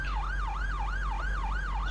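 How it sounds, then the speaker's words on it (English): A wailing electronic siren in the OMSI 2 bus simulator on a London route, rising and falling in a steady, even cycle about every third of a second. It plays loud and unbroken over a low engine drone, with no talking. "poxy sirens, Reese."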